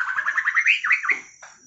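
A young murai batu, or white-rumped shama, sings a close, clear phrase of rapid rising and falling whistled notes, followed by a short separate note at the end.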